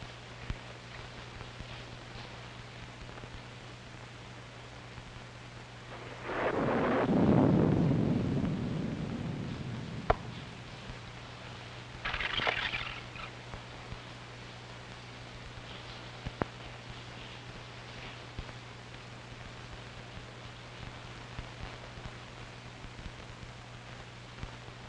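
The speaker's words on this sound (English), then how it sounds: "It's liable to rain all night." Night thunder during rain in a classic noir mystery: one deep rumbling roll swells and slowly fades, then a fainter rumble follows, all over a constant low hiss with no speech.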